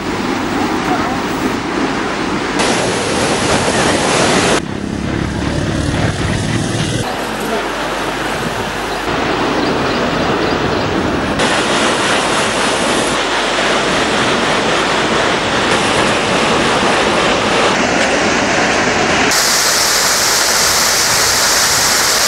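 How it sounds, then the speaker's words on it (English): Swollen waterfalls in the Central Hills roar after heavy rain following a long drought, a loud continuous rush of falling water with cuts between spots. "Our correspondents in the Hill Country sent us this footage of major waterfalls roaring with new life."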